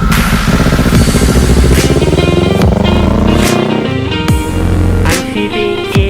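A 2018 Kawasaki Ninja 400 motorcycle engine revs loudly and steadily at close range, its pitch climbing through gear changes with brief dips between shifts, and no voices are present.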